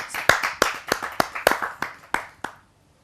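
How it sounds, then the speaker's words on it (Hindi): A small audience at a Hindi poetry gathering claps briefly, a dozen or so distinct, fairly close handclaps that quickly taper off into silence. "आप सबकी जोरदार ताली"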